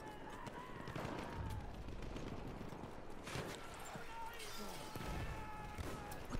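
Gunfire in the Battlefield 1 Conquest mode battle, heard as a dense, continuous wash of loud combat noise with scattered sharp bursts and impacts throughout.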